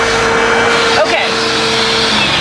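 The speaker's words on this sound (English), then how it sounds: "as I'm vacuuming this up, I have sucked up way too many Legos" A built-in vacuum cleaner in a 2015 Honda Odyssey Touring Elite runs steadily throughout with a constant whine and airflow rush, a brief rattle of debris such as small toy bricks being sucked up partway through.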